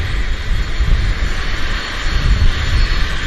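A regional jet moving off its stand at Vancouver airport, a loud, steady engine roar and whine heard close by with no talking.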